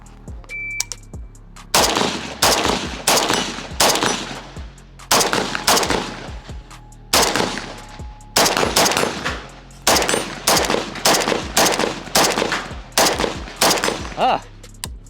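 Zastava M90 rifle fired in rapid strings on a shooting range, loud sharp reports in quick bursts with short gaps between groups, growing faster and continuing throughout.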